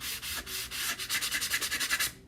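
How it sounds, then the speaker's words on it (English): A sanding block rubs back and forth by hand in quick, even strokes, a close, scratchy rasp repeating about a dozen times. "do a little sanding with my block"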